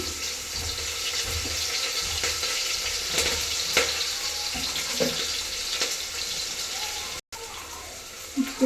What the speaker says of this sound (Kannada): ಈರುಳ್ಳಿ ಹಾಕ್ತಾಯಿದ್ದೀನಿ. ನೆಕ್ಸ್ಟ್ ಕರಿಬೇವು ಹಾಕ್ತಾಯಿದ್ದೀನಿ.